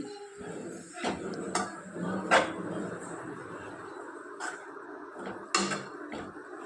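Gongura leaves are stirred into hot tempering in a pan, giving intermittent scraping and knocking from the spoon against the pan with soft sizzle between the strokes.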